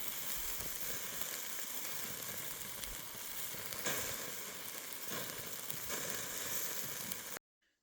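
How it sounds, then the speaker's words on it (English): Bratwurst sausages sizzle on a grill at a redwood campsite, a steady dense crackling hiss that runs without a break at moderate level, with faint pops now and then and no voices. "And cooking the brats up."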